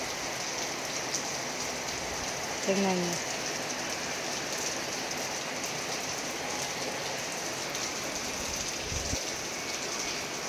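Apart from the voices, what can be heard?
heavy rain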